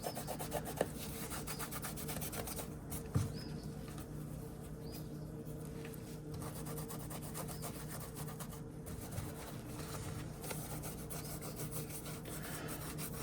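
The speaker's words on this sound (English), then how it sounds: "just gonna rub this on here and get this good and clean" Cleaner-conditioner is rubbed onto a leather knife sheath in a soft, steady scrubbing that stays close and quiet, with a few faint taps.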